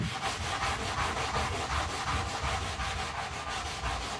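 A sanding block rubbed by hand across a wooden coffee table being restored, making a steady, close scratchy rasp in quick repeated back-and-forth strokes that continue evenly throughout.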